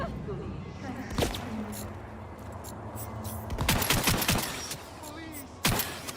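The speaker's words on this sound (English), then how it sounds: "Now let's do submachine guns instead." Submachine gun fire in Cyberpunk 2077 Phantom Liberty: scattered single shots, then a rapid burst of several sharp cracks and another lone shot, under a background of game ambience and talk.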